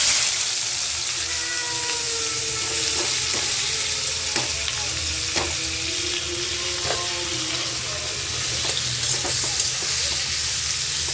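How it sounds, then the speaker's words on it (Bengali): Loud, continuous sizzling of potatoes in a hot wok, with scattered clinks of a utensil stirring and scraping through the oil. "তো আলু ভাজিটা এখন বসাই দিব। কড়াই গরম হয়ে গেছে,"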